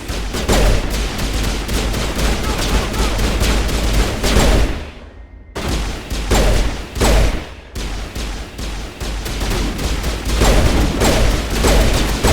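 Sustained automatic gunfire in Mass Effect: Legendary Edition, loud and dense bursts rattling almost continuously, broken by two brief pauses before the shooting resumes.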